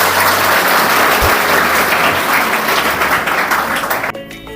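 Loud, close applause from a crowd at a secondary school admission festival, a thick continuous clatter of clapping hands that drops away abruptly in the final moments.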